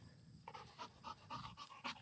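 A retriever dog panting during duck dog training, rapid rhythmic breaths repeating steadily and fairly close, heard alone without talk.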